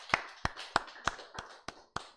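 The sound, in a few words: congregation applauding in church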